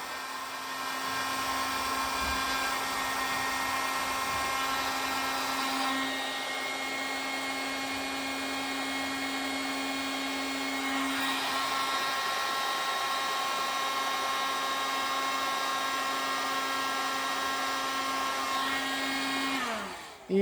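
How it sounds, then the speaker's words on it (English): A heat gun shrinking heat-shrink tubing on headlight wiring blows continuously with a steady high-pitched whine and airy rush, held close for a long stretch before cutting off. "I'm just dragging on my heat gun"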